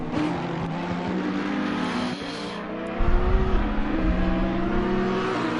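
A Mercedes race car runs at Oulton Park, rising to a steady high engine note. A louder, rougher low rumble joins partway through as cars drive on, with no speech.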